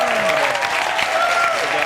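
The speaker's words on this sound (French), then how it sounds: "Coupez, on applaudit, bravo." Brief burst of audience applause and cheering on a film set after a take is cut, a steady wash of clapping with a voice speaking over it.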